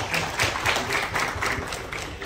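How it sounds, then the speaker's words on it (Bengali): A small round of audience clapping at a geriatrics panel discussion at a medical conference, soft and scattered patters lasting a couple of seconds. "একটা হাততালি হয়ে যাক।"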